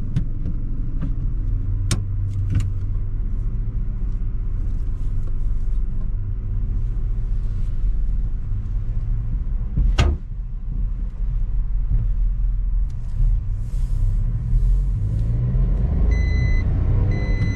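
A 2019 Datsun Go Panca facelift hatchback on a test drive, its engine and road rumble droning steadily from inside the cabin, with a sharp knock midway and a few faint beeps near the end.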